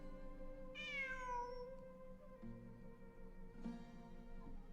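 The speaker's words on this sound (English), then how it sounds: "It really is a cat." Domestic cat giving two distinct meows, a long drawn-out falling cry followed by a shorter call a few seconds later, close and fairly quiet against a soft background hum.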